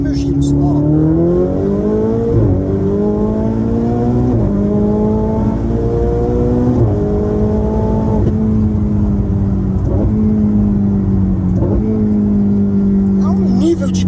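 A Ferrari 488 Spider engine revs hard in second gear around 5,000 rpm, its loud, rising growl climbing in pitch with brief dips at shifts, and a voice briefly exclaiming over it.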